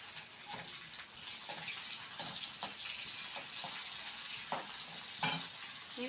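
Chili frying in hot oil for a red pumpkin curry: a steady, close sizzle with scattered sharp ticks and spits over a continuous hiss, no voices.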